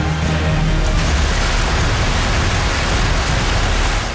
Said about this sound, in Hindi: मूसलाधार बारिश ने पहाड़ों का जीना मुहाल कर दिया है